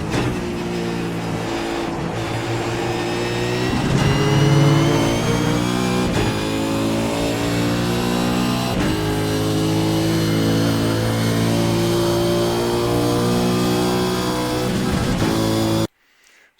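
A race car laps Road America under steady engine load, its onboard engine note droning loud and constant with slight rises and dips through corners, then cutting off abruptly at the end.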